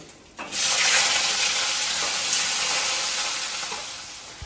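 Onions dropped into a hot pan with prawns, bursting into a loud, steady hiss of frying that starts abruptly and then holds, slowly fading a little toward the end.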